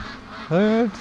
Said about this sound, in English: you can hear a little quack out of them